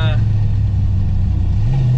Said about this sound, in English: finally, after some time, I am driving the Z home